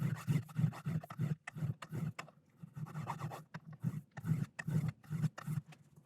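Hand rasping or filing shapes the wooden edge of a 1958 Gibson LG-1 acoustic guitar, repeated rhythmic scraping strokes, close and fairly quiet, with brief pauses between passes.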